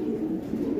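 A racing pigeon in its loft gives a single soft, low coo, brief and close, with no other sound over it.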